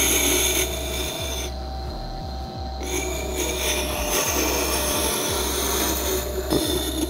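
An axe blade is drawn across a sharpening stone in continuous loud rasping strokes, close and steady, with no talk.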